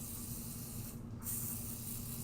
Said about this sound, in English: I am going to use some pixie spray to keep it in place